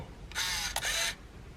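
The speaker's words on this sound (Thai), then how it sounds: "เลนก็จะยืดออกมาชัตเตอร์ลั่นนะครับ" An Olympus mju compact film camera whirs for about a second as its lens motor extends, with a sharp shutter click in the middle of the motor noise, close and clear with no talking.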